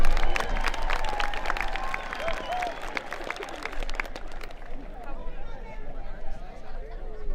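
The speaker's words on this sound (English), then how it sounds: "Another round of applause for cosmetology." A crowd at a career and technical center commencement ceremony applauds the cosmetology graduates, with steady clapping and a few cheers sounding from across the hall, mixed with crowd murmur.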